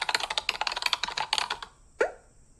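Quick bursts of keystrokes on a computer keyboard as a chat message is typed, close and crisp for about a second and a half, then a single louder key tap after a brief pause.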